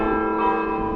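Church bells ring in the quiet Sicilian countryside, a brief sustained resonant tone heard moderately near.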